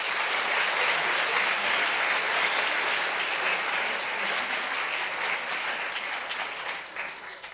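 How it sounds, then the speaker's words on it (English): A quick round of applause from a room of students at a morning meeting, broad and sustained clapping that holds steady for several seconds before thinning slightly at the end. "I hope we can just give them a quick round of applause."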